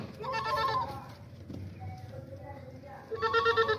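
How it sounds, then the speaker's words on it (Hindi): A large dairy goat, kept alongside its kid, bleats in short loud calls at the start and again near the end, with talk running through between the calls. "बहुत बड़ी बकरी है माशाल्लाह से"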